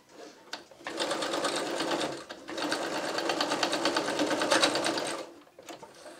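A sewing machine stitches neoprene for a clown bodysuit in two steady mechanical runs, a short burst then a longer rattling stretch, close and loud with no talk.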